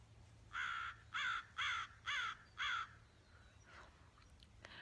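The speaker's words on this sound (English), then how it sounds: "Why doesn't this bird understand that I'm trying to make a video?" A crow caws outdoors, five harsh evenly spaced calls in a row at moderate distance, followed by fainter distant caws over a quiet low hum.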